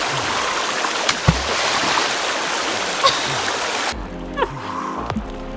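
Rushing river water from the video game Sons of the Forest, a steady close wash of flowing noise with a few splashy knocks, then dropping to a quieter, muffled trickle partway through.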